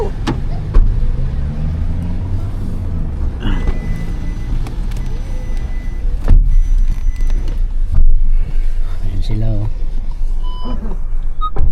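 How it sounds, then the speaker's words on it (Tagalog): A garbage truck reverses on a Paris street, its backup alarm sounding a series of steady electronic beeps over rumbling engine and traffic noise, with people talking nearby. "Old garbage truck."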